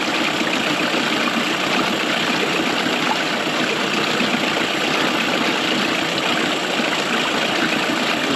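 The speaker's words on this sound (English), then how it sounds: "You hear the engine slowing down." An outboard motor idling while its carburetor is being adjusted, a steady close-up drone with a constant rough texture and no pauses, heard alone without talk.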